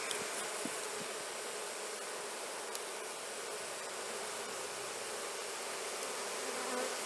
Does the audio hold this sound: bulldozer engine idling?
no